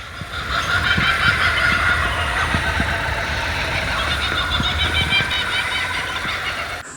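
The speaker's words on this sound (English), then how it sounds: "And can you hear the kookaburras?" Dense, continuous kookaburra chatter with repeated cackling calls fills a Dandenong Ranges forest scene steadily and loudly, with a constant rushing ambience underneath.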